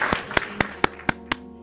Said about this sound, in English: Clap it up for my boy for that.